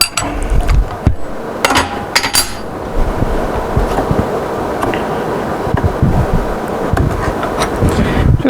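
A spanner works on the collet nut and shaft of a CNC router spindle, giving a series of sharp metallic clanks and taps early on, then softer intermittent scraping and handling noises, close and fairly loud, with no talking.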